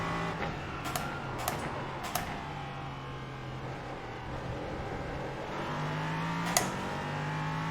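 Racing car engines, a BMW among Cadillacs, whine and drone continuously in a racing video game, with shifting pitch as cars pass and a few sharp clicks or knocks standing out.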